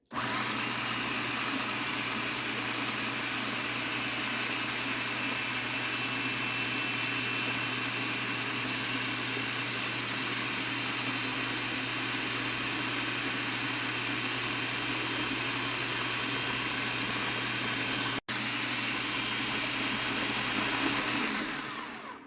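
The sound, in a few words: blender mixing homemade basil pesto sauce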